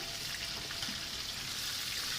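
Chopped tomatoes go into a pan of chicken karahi, bringing a steady, close, hissing sizzle that stays even and continuous with no distinct impacts.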